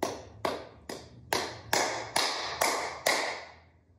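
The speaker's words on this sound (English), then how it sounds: "The next part is just 8 claps. We're gonna do a crescendo." Eight sharp hand claps in an even, steady rhythm, starting quiet and building louder with each clap in a crescendo, each ringing briefly in a small room.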